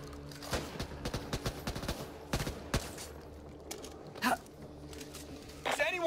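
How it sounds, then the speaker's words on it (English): Video game gunfire from Back 4 Blood: bursts of rapid shots and single cracks fired in quick succession, loud and close, with scattered gaps between volleys and a voice in the background. "Watch where you're firing!"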